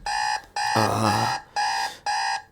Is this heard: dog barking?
no